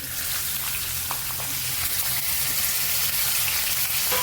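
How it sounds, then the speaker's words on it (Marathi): Finely chopped onion frying in hot oil with spices and bay leaf, giving a steady, close crackling sizzle that stays even throughout with no talk over it. "यामध्ये बारीक चिरून घेतलेला कांदा मोठा एक घेतलेला आहे तो घालून घेते."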